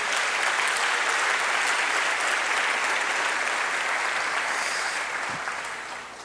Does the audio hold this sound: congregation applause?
yes